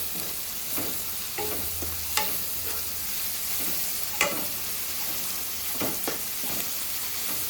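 Garlic and cumin crackle and fry in a pan as a utensil stirs them, with scattered scraping clicks and brief pops over a steady sizzling hiss, close and moderately loud.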